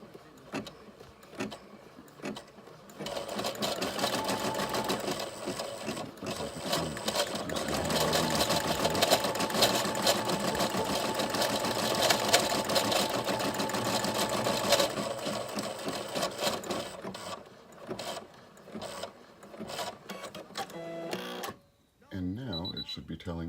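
A Brother SE400 embroidery machine stitches a design with a fast, steady mechanical whir and rapid needle clatter that runs for most of the stretch, then stops into quieter handling noises, with a voice talking over parts of it.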